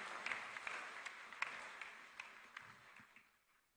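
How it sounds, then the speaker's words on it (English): Audience applause at a speaking event in Ghana, a soft, steady wash of many hands clapping that fades out toward the end, heard from a distance. "Please clap your hands and encourage."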